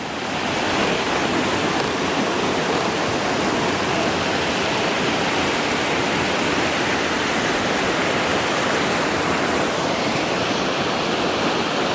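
A river rushes through a canyon near Estes Park, Colorado, a dense, constant roar of flowing water that fills the scene steadily and loudly with no voices.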